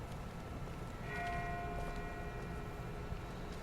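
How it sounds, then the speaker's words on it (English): A distant bell tolls faintly in the Walking Dead Season 1 game, its sustained ringing tones rising from a low noisy background for a few seconds, far off and soft, with no voices over it. "That's not the same bell as before. This one's further off."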